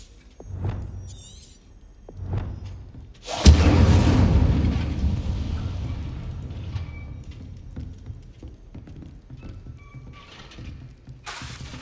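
An Incendio fire spell in the Hogwarts Legacy video game sets things ablaze: a couple of soft whooshes, then one sudden loud blast that swells into a long roaring burn and slowly fades.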